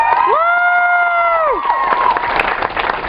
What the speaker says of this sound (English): we're gonna give a round of applause to all of our contestants